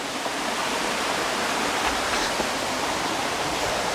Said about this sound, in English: we'll have a look at the waterfall. I can hear the waterfall.